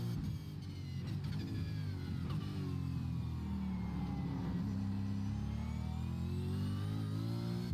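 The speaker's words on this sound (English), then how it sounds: "I just think the sound of the Commodore, or the Gen 2s rather, sounds, oh my god, it sounds" A Gen 2 Holden Commodore V8 Supercar engine revs steadily and loudly. The tone rises and falls through the gears with a continuous deep, throaty roar and no voices.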